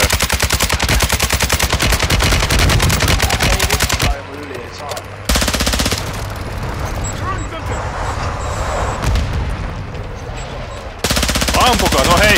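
Rapid automatic gunfire in Warzone 2, loud bursts of machine-gun fire with a quieter break of vehicle engine noise in the middle, players talking over it.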